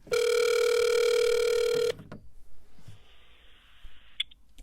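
A telephone ring tone on an outgoing call sounds as one long, loud, steady electronic burst, then cuts off and leaves faint line noise with a few small clicks.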